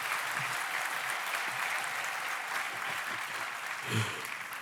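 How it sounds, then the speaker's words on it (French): An audience claps for a guest in a sustained, dense round of applause that keeps an even level throughout, with a slight swell near the end. "est-ce qu'on peut l'applaudir?"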